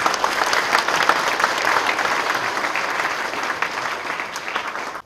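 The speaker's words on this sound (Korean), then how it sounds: "한번 더 인사하시고 박수로 환영해 주십시오." A crowd at a Korean Presbyterian presbytery meeting in a church claps steadily and warmly for several seconds welcoming retiring pastors, a dense sustained round of applause that fades out at the end.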